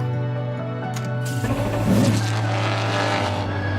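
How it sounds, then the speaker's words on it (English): Porsche sports car engine revving loudly and steadily, building to a harder surge midway before settling into a sustained roar, with no voices over it. "The engines sounded angry."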